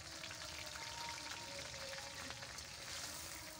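Sliced onion and slit green chillies fry in homemade oil for a crab dish, giving a steady, dense sizzle with fine crackling throughout and no voices.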